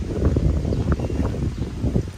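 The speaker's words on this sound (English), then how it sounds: "Sorry about all the wind." Steady wind rushing and buffeting across the microphone in a crowded summer flower garden, loud and continuous for a couple of seconds with no voices.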